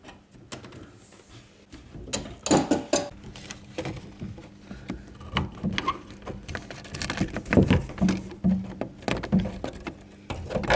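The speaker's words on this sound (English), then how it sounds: "Get your adjustables on here and then loosen that off." Adjustable spanner working loose the nut under a single-pillar kitchen tap: a run of close metallic clicks, scrapes and knocks, irregular and fairly quiet, with no talking.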